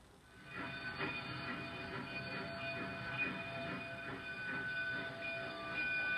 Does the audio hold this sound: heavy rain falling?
no